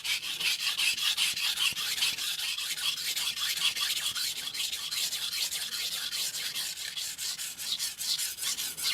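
A dull knife is drawn across a 400 grit sintered diamond stone in a continuous series of close, gritty rasping strokes, with no talk.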